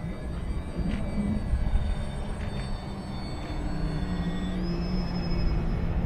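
An FMS Super EZ radio-controlled model airplane zooms past outdoors, a steady whining electric-motor drone with a brief pitch shift as it goes by. It sounds moderately loud and close throughout, with no talking.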